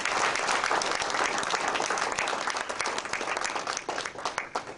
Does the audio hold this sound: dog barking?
no